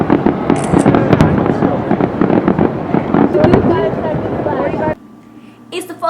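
Fireworks and firecrackers going off on the 4th of July, a dense run of sharp loud cracks and pops for about five seconds, then quiet with a few faint later bursts; voices talk over the barrage.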